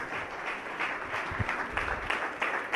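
Audience applause at a Hindi religious discourse gathering, a steady wash of many hands clapping at moderate distance throughout, with scattered louder claps and no talk.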